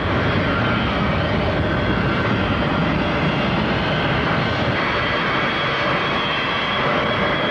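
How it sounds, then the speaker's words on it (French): A presidential command airplane takes off at Conakry-Bessia International Airport in 1983, a loud, continuous jet engine roar filling the whole clip with a steady broadband rush. "L'avion de commandement du président nigérien représenté par le Premier ministre amorce le décollage de l'aéroport international de Conakry-Bessia."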